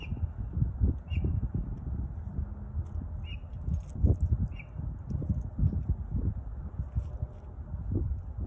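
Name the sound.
bird singing outdoors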